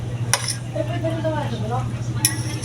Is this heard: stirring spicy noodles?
yes